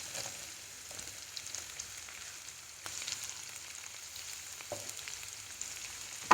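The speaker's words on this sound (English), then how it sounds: "We'll fry this little bit." Onions, chopped capsicum and ginger paste fry in a pan with a faint, steady sizzle and occasional soft clicks of stirring, quiet and close, with no voices.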